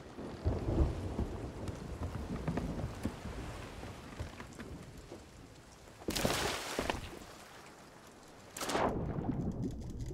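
Thunderstorm with steady rain at sea in Sea of Thieves, a continuous wash of rainfall broken by two loud, close thunder cracks that roll and rumble for a couple of seconds each.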